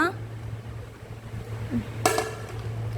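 Dishes and pots clink and knock as they are washed at home, low clatter with one sharp metallic clang near the end, under a steady low hum.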